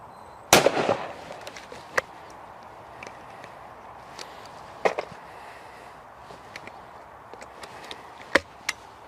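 A single sharp, loud report from an inexpensive 16 gauge shotgun fired at clay targets outdoors, with a quick decay and only faint clicks and taps afterward.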